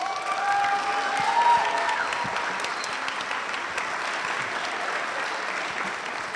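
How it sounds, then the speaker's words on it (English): An audience at an Everest College graduation ceremony applauds the graduates with sustained, even clapping and a little cheering, filling the hall from start to finish. "We now welcome applause for all of these individuals."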